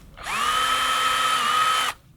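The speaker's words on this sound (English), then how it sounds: "First I'm just going to pre-drill" A power drill pre-drills screw holes into a wooden garden fence post, giving one steady high whine of about a second and a half that starts and stops sharply, close and loud.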